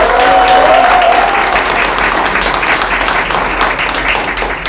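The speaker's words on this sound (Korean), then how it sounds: "박수로 환영해 주십시오" Loud, dense applause from a crowd at a Democratic Party by-election rally and pledge ceremony in Ulsan, welcoming a party spokesperson to the stage. It is sustained and even, then slowly eases off.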